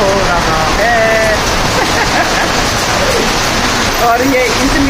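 Heavy downpour during the rainy season, hail starting to fall, a dense steady hiss of rain filling the whole stretch, with someone talking over it.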